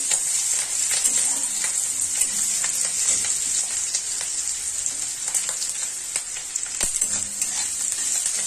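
Ingredients for pasta frying in a pan, producing a close, dense, crackling sizzle broken up by frequent stirring taps and scrapes, with no voices.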